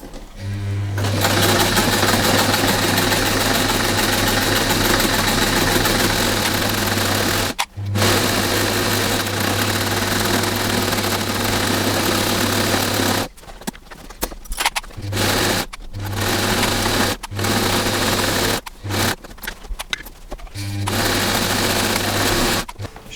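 A sewing machine stitching a mouse mat runs in a loud, steady close-up whir, stopping briefly once and then breaking into a series of short starts and stops near the end.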